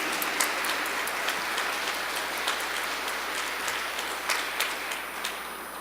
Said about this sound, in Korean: 이정숙 선생님께 다시 한번 감사의 박수 부탁드립니다.